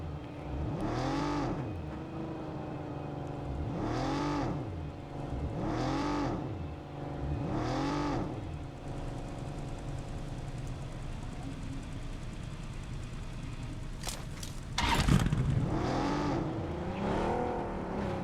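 A vehicle engine in PUBG Mobile drones and revs in repeated rising-and-falling surges, fairly loud and continuous, with a sharp burst of noise near the end.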